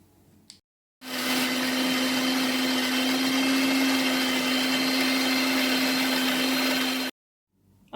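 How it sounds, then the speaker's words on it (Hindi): A mixer grinder grinds garlic, green chilies, cumin and fresh coriander, running loudly and steadily for about six seconds with a strong whining motor tone, starting and stopping abruptly. "और लहसुन, हरी मिर्चें और ये ज़ीरा और हरा धनिया, ये सब हम ग्राइंड कर लेंगे।"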